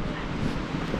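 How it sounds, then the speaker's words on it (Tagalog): Strong wind buffets the microphone at an outdoor scenic viewpoint, a dense, continuous low roar of rumbling gusts with no clear pauses. "Kaso ang lakas lang ng hangin."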